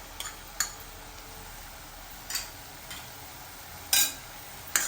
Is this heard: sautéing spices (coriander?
yes